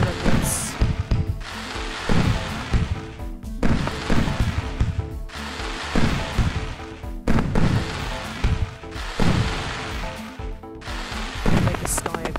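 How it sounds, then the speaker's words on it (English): Brazilian taco firework bursting in the video game Fireworks Simulator: loud, crackling explosions repeat roughly every second and a half, each a dense wash of noise that fades before the next. "There is the Brazilian taco firework."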